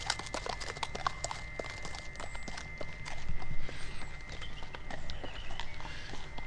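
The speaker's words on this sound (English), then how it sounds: "A couple of lovely horses just gone by" A couple of horses walking past on a forest path in the New Forest, irregular hoof clip-clops fairly close, with outdoor ambience and faint birdsong.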